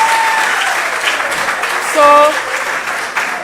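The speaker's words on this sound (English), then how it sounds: "I think we deserve a clap of thanks." An indoor audience at a lab quality-week exhibition breaks into steady applause, a dense wash of clapping that fills the whole moment while a voice speaks briefly over it.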